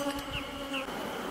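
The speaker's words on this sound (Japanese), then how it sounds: "ふるい落とされた内勤蜂たちが続々と受け入れる側の巣箱の中に巣門から歩いて入って行きます" Honeybees shaken off a comb onto a hemp cloth in front of a hive entrance make a close, continuous buzzing hum with wingbeat tones drifting up and down.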